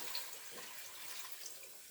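Tap water runs steadily for washing dishes, a constant close hiss with a few small splashes, alone and without talk.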